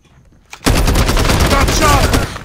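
Rapid automatic gunfire in a multiplayer video game shooter, a loud sustained burst of closely spaced shots that starts abruptly after a quiet moment and runs almost two seconds before cutting off.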